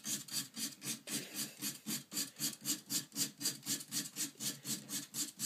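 A snooker cue tip being trimmed at its edge gives a rapid, even series of short scraping strokes, quiet and close, with nobody speaking.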